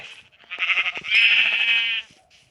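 A sheep bleats in a Minecraft-style survival video game, a clear, near, wavering cry with a shorter call first and then a long sustained bleat, alone without talk.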